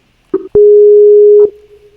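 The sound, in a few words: Skype call ringing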